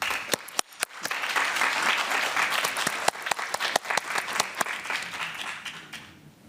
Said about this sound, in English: Please welcome, with big applause,